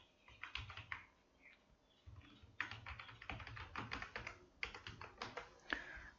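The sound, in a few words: typing on a computer keyboard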